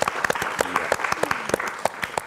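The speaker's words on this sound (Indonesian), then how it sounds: "Kita beri tepuk tangan yang meriah." Studio audience on a psychology talk show applauding, a brief burst of sharp, separate claps at an uneven pace, close and moderately loud, with some talk mixed in.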